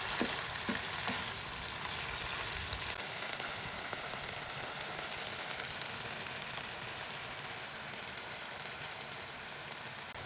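Sardines sauté in a hot pan with leaves and calamansi juice, making a loud, steady, rain-like sizzle with a few sharp spatters at the start and no speech.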